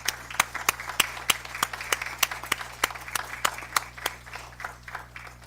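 Sparse, distinct handclaps from a small audience at a school board meeting, each clap sharp and separate in a steady, moderately quiet round that fades toward the end.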